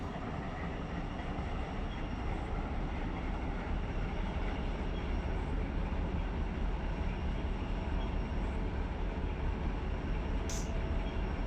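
Freight train running in a train simulator game, a low steady rumble and rolling rail noise at constant moderate level throughout, with no voices and only a brief faint high tick near the end.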